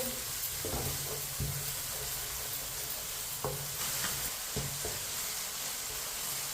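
Tomatoes frying in a pan over a medium flame give a steady, soft sizzle throughout, with a few faint clinks and stirring knocks scattered over the hiss.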